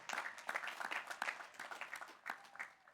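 Audience applause at a Harvard Law School Class Day ceremony, a faint, steady patter of many hands clapping in a large space, with a few louder claps standing out.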